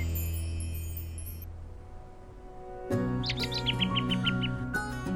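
Pet birds chirp inside a smart bird cage, with quick high tweets and short trilled runs coming in bursts close by over a soft background hum.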